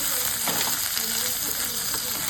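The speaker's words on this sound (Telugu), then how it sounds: "ఫ్లేమ్ని మీడియం ఫ్లేమ్లో పెట్టుకొని బీరకాయ ముక్కల్ని ఉడికేంత వరకు మధ్య మధ్యలో కలుపుకుంటూ వేయించుకుందాం" Ridge gourd pieces fry in a pan over a medium flame, a close steady sizzle broken by soft scraping stirs every half second or so, with no voices.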